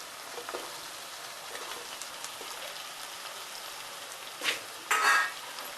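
Potatoes and brinjal sautéing in a pan for Maharashtrian bhogichi bhaaji give a steady soft sizzle and crackle, like light rain, with a couple of brief louder clatters near the end.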